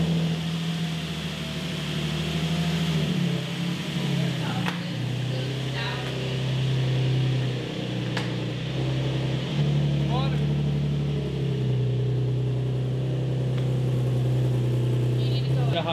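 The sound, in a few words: Nissan 240SX car engine warming up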